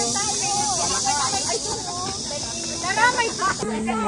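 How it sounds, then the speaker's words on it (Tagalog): Cicadas drone steadily in a park in Daegu, a continuous high buzzing bed running throughout while several people talk nearby over it. "Kuliglig pa dito."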